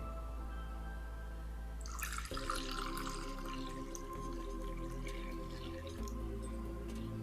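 Water running into a large glass holding two teaspoons of baking soda, a steady trickling pour that starts about two seconds in and continues quietly to the end.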